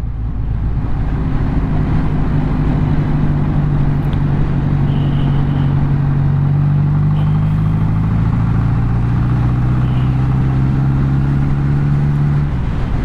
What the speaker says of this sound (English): 10 pound when it's ticking over.